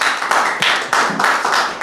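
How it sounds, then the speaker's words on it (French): Applause for a woman on an Ivorian radio sports show, a short burst of loud, dense clapping that swells and dips in waves. "on vous applaudit très très fort"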